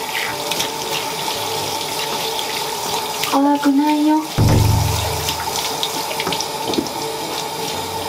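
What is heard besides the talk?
shower water running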